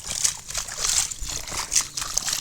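Rainwater overflows from a flooded cotton field and runs across a road during heavy rain, making a steady close rush of sloshing, trickling water with no clear pauses.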